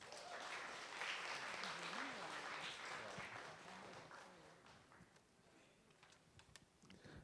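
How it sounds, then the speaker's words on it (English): A crowd at a Miss Teen Awareness pageant in Trinidad and Tobago gives steady applause, a dense wash of clapping that is faint and distant and tapers off into scattered claps. "please give a round of applause for Mr. Raymond Alexis."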